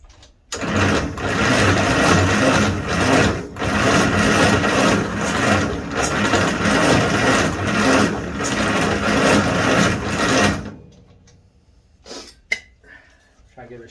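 An International 300 Utility tractor engine runs loud and steady for about ten seconds, chugging with rough, uneven pulses, then cuts out abruptly, leaving quiet with a few faint knocks afterward.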